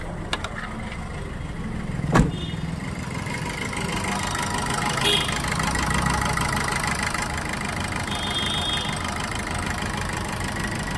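A Maruti Suzuki Swift Dzire engine idling steadily just after being started, a close, even mechanical rumble with a sharp click early on and no talking.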